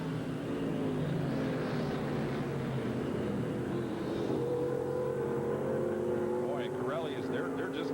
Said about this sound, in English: All these trucks are running for position.